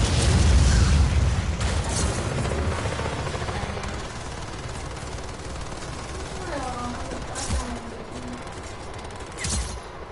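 A loud explosion in the open-world action game Just Cause, a heavy low boom at the start that rolls off into lingering rumble while players talk over it.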